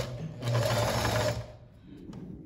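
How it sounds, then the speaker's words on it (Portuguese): A sewing machine stitches ric-rac trim onto a dish towel in one steady, close, loud burst of whirring of about a second, then stops, leaving soft handling noises. "E começo a costurar, então, bem no meio aqui"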